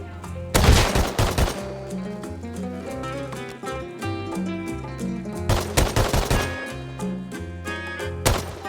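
Gunfire from a newly picked-up gun in Rust, on a Mars-themed map: two loud rapid bursts of shots, the first brief and the second longer, over steady background music.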